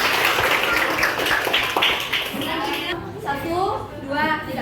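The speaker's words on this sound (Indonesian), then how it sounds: "tepuk tangan dong" Students at a school outreach session clap together, a dense burst of applause with voices chattering over it, then the clapping fades as people keep talking and begin singing.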